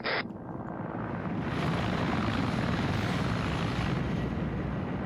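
A helicopter in a military video game thunders overhead, its loud, steady rotor and engine drone filling the whole stretch with no voices.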